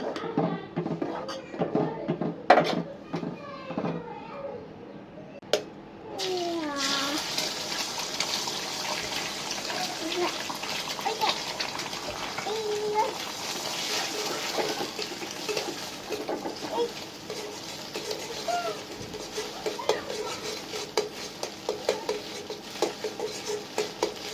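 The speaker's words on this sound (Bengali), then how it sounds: "নুডলসটা সিদ্ধ দিয়ে দিচ্ছি নুডলসটা সিদ্ধ করে নেব" Noodles boil in a pot of water: after a few early clanks and movement, a continuous bubbling, gushing wash of liquid runs steadily and fairly close, with a faint voice now and then.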